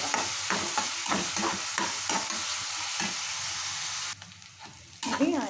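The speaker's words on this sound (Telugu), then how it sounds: "ఒక ఎరగడ్డ తీసుకొని పచ్చిమిరపకాయలు కూడా ఒక రెండు సన్నగా కట్ చేసేసి కొంచెం పచ్చివాసన పోయేదాకా వేసుకోవాలి" Onion and finely cut green chillies sizzle in a pan while being stirred, with scraping, knocking stir strokes over a steady frying hiss that suddenly thins out near the end.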